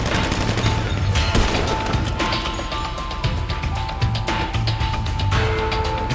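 Gunfire in GTA 5 during a roleplay firefight around a convoy near Area 51, with rapid loud shots and bursts cracking repeatedly over steady background noise.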